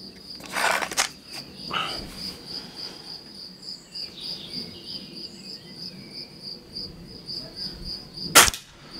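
A rifle or shotgun shot fired during a hunt in the French countryside, one sharp crack near the end after a long stretch of steady insect buzzing, with a fainter thump early on.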